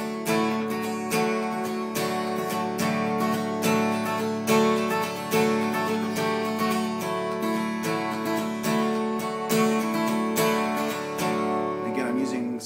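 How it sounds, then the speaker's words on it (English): An acoustic guitar strums a verse pattern on the 1 string, with steady rhythmic up and down strokes ringing close and full throughout. "you're gonna do your original verse pattern, but you're gonna do it on the 1 string instead of on the 4 string."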